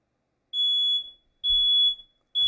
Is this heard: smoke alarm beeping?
yes